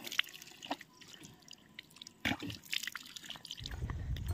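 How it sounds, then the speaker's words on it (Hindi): Spring water trickling in a thin, uneven stream from a pipe into a tank, heard close with irregular drips and splashes throughout and a fuller gush of water near the end. "देखिए ये पाइप से आता है, थोड़ा थोड़ा आता है"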